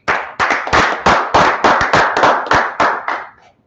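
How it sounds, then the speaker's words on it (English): Worshippers at a Wednesday religious class clap in unison, about a dozen sharp, evenly spaced claps in a quick rhythm that stop cleanly at the end. "Let's clap it up."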